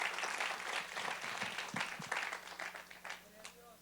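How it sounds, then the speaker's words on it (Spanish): A church congregation applauding, with dense, steady clapping from many hands filling the room and tapering slightly toward the end, with no voices over it. "Den un aplauso al Señor en esta preciosa tarde."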